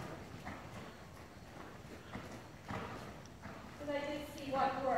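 Horse hooves clip-clop at a walk during a riding lesson, a soft irregular rhythm of hoofbeats under ongoing conversation, with brief tonal sounds near the end.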